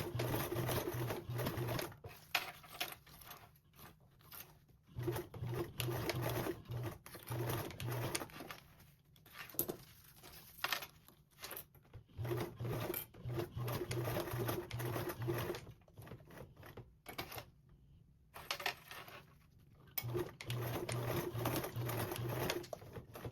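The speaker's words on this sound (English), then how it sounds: "this time you're going to sew with a 3/8 seam allowance" A sewing machine stitches duffle bag binding with a 3/8-inch seam allowance. It runs in repeated stop-start bursts of close motor hum and needle chatter, with short quiet pauses between runs.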